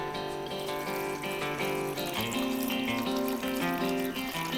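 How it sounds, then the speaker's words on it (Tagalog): Steady, continuous running water fills the clip, a loud rushing stream poured into a cooking pot for pancit bihon, with the tone rising slightly as it fills. "lalagyan ko na siya ng tubig"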